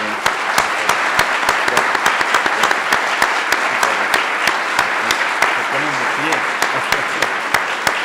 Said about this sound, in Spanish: Quisiera, por favor, que le brindáramos el más grande de los aplausos.